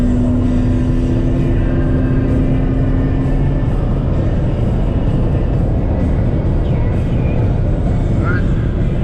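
A Z car cruises at highway speed, climbing from about 80 to 90 miles per hour, producing a loud, steady broadband engine and road roar that stays constant throughout, with a brief tonal whine early on.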